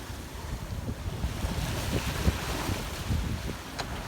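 Steady wind rushes and waves wash against the hull of the Sirocco, a sailboat under way in open water on a breezy day, with no voices.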